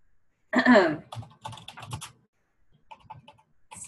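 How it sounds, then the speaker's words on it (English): Someone types a Google search on a computer keyboard, a quick burst of close clicking keystrokes that pauses and resumes. A voice speaks briefly at the start. "I probably just type it in there."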